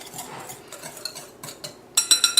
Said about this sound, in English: I've got my whisk here. And I'll just whisk that up.